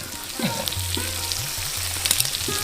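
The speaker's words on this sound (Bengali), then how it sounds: "এগুলো ভেজে নেব আলুগুলো লাল করে ভেজে নেব" Potato pieces, salted, frying in oil until reddened: a close, continuous sizzle with a low tonal hum running beneath and a few brief sharper crackles.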